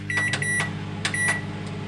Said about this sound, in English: And I'm going to microwave this for